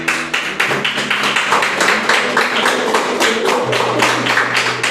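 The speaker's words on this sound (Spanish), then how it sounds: "Dale un aplauso a Dios." A church congregation claps together, a steady run of dense, overlapping hand claps that fills the room at full volume for the whole stretch, with no voices over it.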